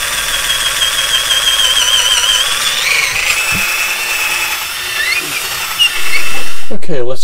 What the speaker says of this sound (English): Okay, let's finish drilling this.